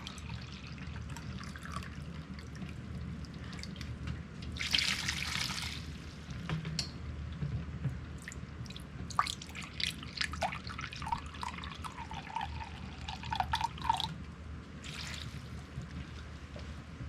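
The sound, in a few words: distilled vinegar being poured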